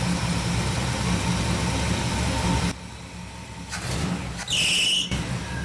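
A 1959 Pontiac engine idles roughly with a loud, steady, close rumble, then suddenly sags and drops to a quieter level. A brief high whine rises near the end before the engine note returns. No one speaks.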